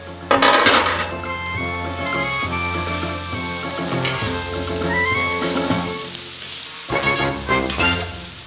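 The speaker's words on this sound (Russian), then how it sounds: "Высыпаем всю одним разом и перемешиваем." Potatoes are tipped all at once into a hot kazan and stirred, setting off a loud, steady frying sizzle with clattering scrapes and knocks of the utensil against the pot.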